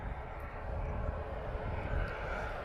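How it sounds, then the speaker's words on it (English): A Ryanair Boeing 737 MAX pushing back at Lisbon Airport, heard as a steady, moderately loud rumbling jet drone with broadband noise that holds evenly throughout, with no voices present. "So anyone that's a fan of the 737 MAX, we've got Ryanair pushing back."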